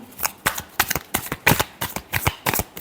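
Tarot cards being shuffled by hand in a riffle-like series of about a dozen crisp, rhythmic bursts, close and fairly loud with no talking.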